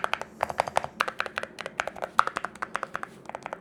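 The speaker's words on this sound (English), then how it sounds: "The sound is kind of like you have a ceramic plonk" Typing on a Kickstarter mechanical keyboard fitted with ceramic keycaps, a rapid run of close, crisp plonking keystrokes in an uneven rhythm, each tap bright and hard, with no voices.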